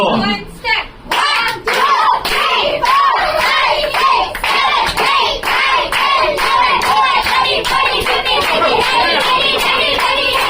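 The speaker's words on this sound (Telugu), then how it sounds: "చప్పట్లు కొడతారు కదా" Many people clap together at a birthday celebration, a dense, sustained round of close, loud hand claps with brief excited voices mixed in.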